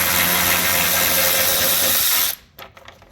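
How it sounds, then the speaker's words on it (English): A power tool whirs loudly and steadily while removing Torx bolts on a 2021 Can-Am X3 Turbo RR, then cuts off abruptly, leaving a few faint clicks and handling sounds. "It's nice when you have power tools."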